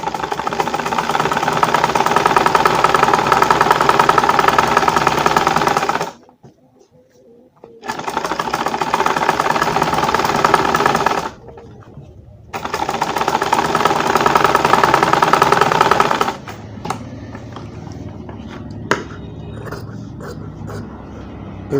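A sewing machine runs in long steady bursts while stitching the side of a pocket, loud and close, with two short pauses between runs and quieter handling sounds and clicks at the end.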